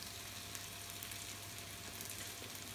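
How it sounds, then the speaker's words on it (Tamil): Cooking oil sizzles steadily in a pan, ready for frying cashew nuts, with a continuous close hiss that holds at an even level throughout. "நான் வந்து ஒரு மூடி எண்ணெய் ஊற்றிக்கிறேன்."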